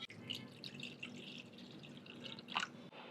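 Water is poured into a vessel to make an herbal kashayam from a powdered blend of tulsi, neem, giloy and karisalai, a soft, close trickling and dripping splash that stays faint, with no talking.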